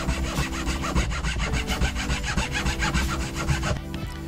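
A hand saw cuts wooden pieces for the roof overhang of a log cabin bird house, its strokes close and loud in a quick, even back-and-forth rhythm with no one speaking.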